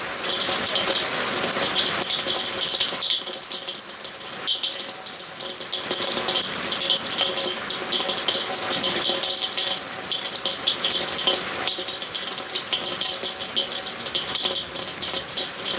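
Heavy rain pours down in Zahirabad, a steady dense hiss of water with a rattling patter that holds loud and unbroken throughout, with no voices.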